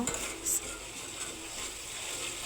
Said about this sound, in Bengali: সবগুলো উপকরণ দিয়ে এবার মশলাগুলো কষে নিব